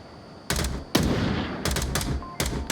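Rifle double-taps in the VR shooter Onward during a tournament match: several sharp, loud paired shots in close succession, standing alone with no talk over them.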